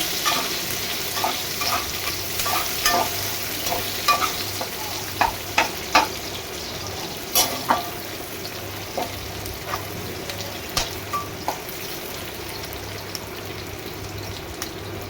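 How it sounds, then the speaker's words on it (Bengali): Onion stirring and frying in hot oil, a steady soft sizzle with repeated scrapes and clicks of a spoon against the pan, close and continuous with no talk. "পেঁয়াজটাকে তেলের মধ্যে দিয়ে ভালো করে নেড়ে তেল ভেজে নেব"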